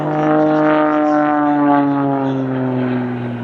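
An Extra 330SC aerobatic propeller plane engine drones steadily at an airshow with a strong harmonic hum and slight pitch drift, loud and continuous throughout.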